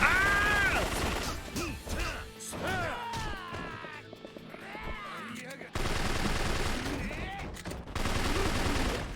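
Gunfire erupts during a brawl in the video game Yakuza 3 Remastered as rapid bursts of shots and crashing hits mix with shouting game voices. The busy fight noise drops briefly, then surges again.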